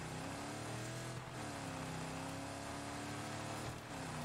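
Car engine in Far Cry New Dawn droning steadily while driving uphill, a low continuous hum with slight shifts in pitch as it strains, faint and even throughout.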